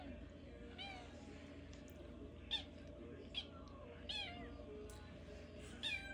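Several short cat meows ring out at intervals, moderately close, over a steady low background hum and faint indistinct murmuring.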